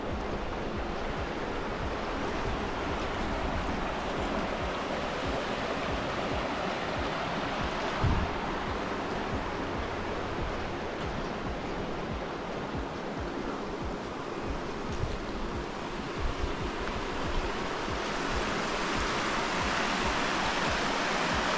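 Louros river in Epirus flowing, a steady broadband rush of water heard continuously and fairly close, with faint occasional knocks and no voices.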